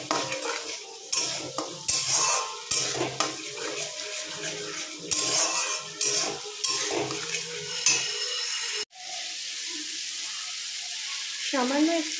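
A spatula stirs poppy seed paste with rice seed paste in a frying pan. The close scraping comes in repeated strokes over a soft sizzle, then a steadier hiss at the end, with no voice over it.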